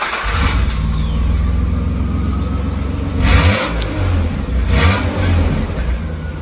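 Nissan engine running with only the catalytic converter fitted and no muffler, a loud raw steady drone from close by, rising in two short revving bursts.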